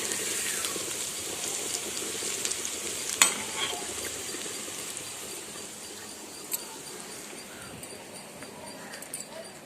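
Pakodi fritters frying in hot oil, a continuous bright sizzle with occasional stirring clinks and a sharp knock near the start, close and steady, no talking.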